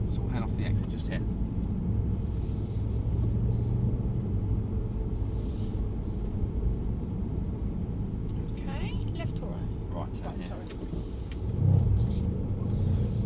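A Mercedes-Benz car rolls off toward the track with a steady low engine rumble and road noise, nearby and constant, as people talk in the cabin.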